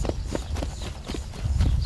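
Hooves of a horse being ridden during a riding lesson clop in an uneven, steady rhythm on the ground, moderately close, with no voices.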